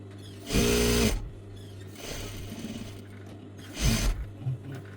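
A sewing machine stitching a chiffon abaya in short runs: a loud mechanical whirring burst, a quieter stretch of stitching, then another brief loud burst, close by with a steady low hum underneath.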